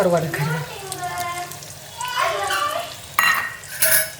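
Washed dried fish (karuvadu) drops into a pan and is stirred, giving a close sizzle and scraping stir under a speaking voice, with a few louder clatters near the end.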